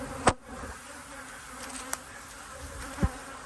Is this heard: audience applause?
no